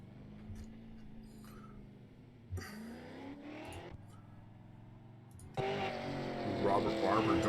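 A super late model race car heads out on its qualifying lap at the Milwaukee Mile, its engine droning under a commentator's voice and then rising into a louder rev toward the end.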